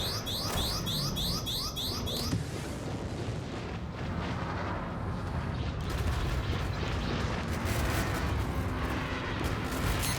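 Rapid weapons fire in the Star Citizen Arena Commander space combat game, a dense unbroken roar of cannon bursts and booming blasts layered over engine rumble, loud and continuous throughout.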